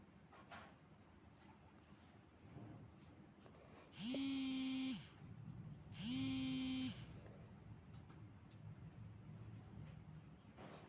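An electric sewing machine stitching a double katori blouse runs in two bursts of about a second each, a close whirring hum with a brief pause between, over quiet room noise.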